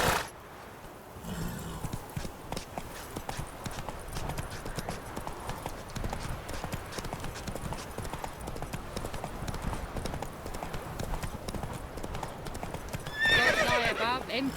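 Roach the horse gallops in The Witcher 3 with steady rapid hoofbeats, a whinny near the end and voices talking over the hooves.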